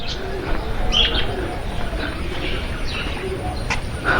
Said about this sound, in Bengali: এখানে কিছু পাখির শব্দ শুনতে পাচ্ছি